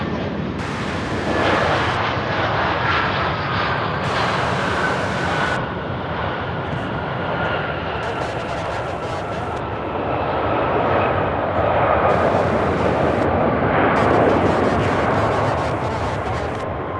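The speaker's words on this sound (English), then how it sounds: "this A319 arriving from Myrtle Beach, South Carolina" An Airbus A319 airliner arriving at Charlotte Douglas airport roars steadily with broad jet engine noise, loud and sustained throughout, with a faint whine running through it and some talk underneath.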